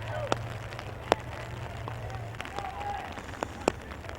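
Rain falling during a high school baseball game, with scattered raindrops ticking sharply on an umbrella; the taps are sparse and faint over a low steady background hum.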